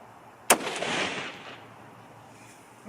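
A single sharp gunshot from a Christensen Arms MPR rifle cracks out near the start, followed by a rolling echo that fades over about a second into quiet outdoor ambience.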